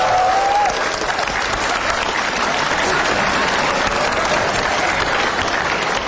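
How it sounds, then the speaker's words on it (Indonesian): Audience applause for a guest at the Republik Mimpi show, dense sustained clapping from a large crowd, loud and even for several seconds with no talk over it. "Langsung saja kita berikan tepuk tangan yang meriah untuk Bapak Soeharta."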